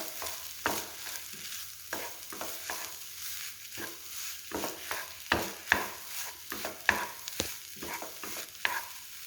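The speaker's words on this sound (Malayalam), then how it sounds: "നമ്മൾക്ക് നല്ലപോലെ തന്നെ ഒന്ന് കട്ട തവി വെച്ചിട്ടൊന്ന് ഉടച്ചു കൊടുക്കാം" A ladle mashing coconut and banana in a pan, with repeated scraping and pressing strokes at an uneven rhythm against a soft background sizzle, close and alone without talk.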